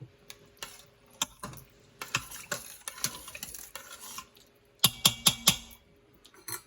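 Bean ingredients stirred in an Instant Pot pressure cooker for refried beans, heard as a run of close scraping and knocking strokes against the metal inner pot, ending in several sharper clinks, with no talking.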